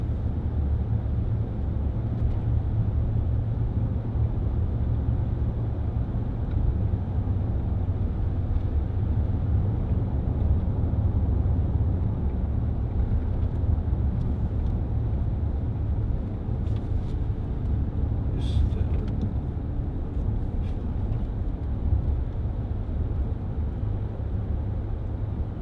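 Steady, loud cabin drone of a 2010 Range Rover Sport 3.6 TDV8 HSE diesel cruising along a bumpy road, a continuous low engine and road rumble with a few faint knocks midway and no speech.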